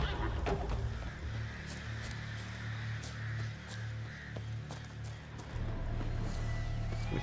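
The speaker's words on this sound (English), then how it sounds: "we saw a horse running away" A horse in The Witcher 3: Blood and Wine gallops off and whinnies, a moderately loud neigh with hoof clip-clop over a steady low game hum, no voices.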